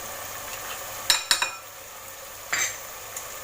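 Pieces of fish being dropped and stirred into a chermoula marinade in a bowl, giving a few sharp wet clinks and slaps in a quick cluster followed by one more, over a faint background hiss with no talking.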